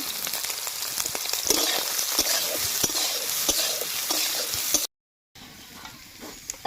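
Green chilies frying in oil in a pan, a steady close sizzle with bursts of stirring and clinks, cut off briefly by a short silence before the frying resumes.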